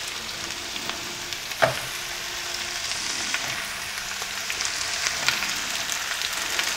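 Beef for stroganoff fries in a pan with a steady, close sizzle and crackle, broken by one sharp utensil clink early on.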